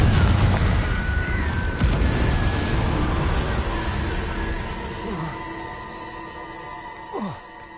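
Loud booming blasts of the Confringo spell in Hogwarts Legacy, a heavy explosion up front fading into rumbling debris and ringing tones, with further smaller pops and bursts afterward.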